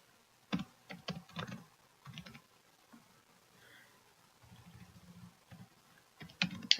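Keys on a computer keyboard clack in short, quiet bursts while a comment is typed into a PDF text box, with pauses between clusters of keystrokes.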